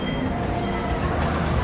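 A light rail (LRT) train rumbles along the rails, steady mechanical noise with a faint hum throughout; no clear speech.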